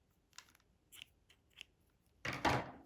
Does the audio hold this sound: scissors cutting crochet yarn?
yes